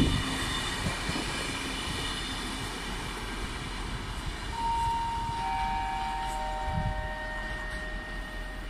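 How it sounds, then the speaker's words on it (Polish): An Intercity Parsenta train, an EU 160 electric unit on the Łódź Fabryczna to Kołobrzeg service, pulls into a station with a steady broadband rumble of wheels and rail and a long sustained tonal whine building through the second half. "wjeżdża pociąg Intercity Parsenta relacji Łódź Fabryczna Kołobrzeg"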